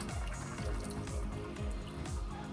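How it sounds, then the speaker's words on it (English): Milk pours into a pot of cooked vegetable soup, a soft, near liquid splashing with a rhythmic glugging pulse repeating about every half second, quiet and continuous for a few seconds. "So now you just have to add the milk"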